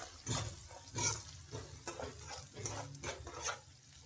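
Garam masala being stirred into a sizzling frying mixture in a pan, with repeated scraping strokes over a steady close sizzle.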